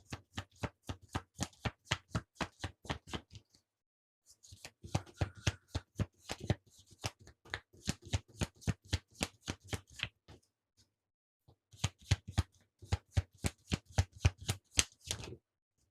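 Tarot cards riffle-shuffled close by in quick bursts of crisp flutters, pausing between rounds, with no voices.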